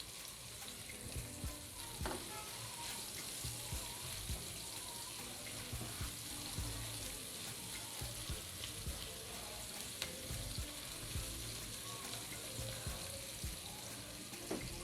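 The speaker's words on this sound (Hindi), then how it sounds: "अब मैं इसमें 1 टेबल स्पून जितना कटा हुआ प्याज डालूंगी। प्याज को सौते करेंगे।" Chopped onion sautés in hot oil in a pan, a soft steady sizzle with faint scattered clicks and stirring touches, quiet and even throughout with no talking.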